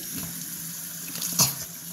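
Water runs steadily from a tap into a sink, a soft continuous hiss with a brief splashy surge near the end.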